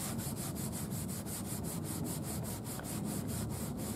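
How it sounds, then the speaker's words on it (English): A wet sponge with Bar Keepers Friend cleanser scrubs a car headlight in quick, rhythmic back-and-forth strokes, about five per second. The gritty rubbing is close and steady, with no talking. "You mainly want to use just a wet sponge and let the abrasiveness of the cleanser do what it needs to do."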